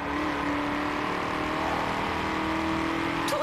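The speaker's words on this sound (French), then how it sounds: "Aimer le bruit du moteur." A car engine in a driving video game hums and revs at a steady high drone, loud and continuous without pause.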